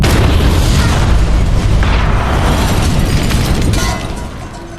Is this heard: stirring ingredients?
no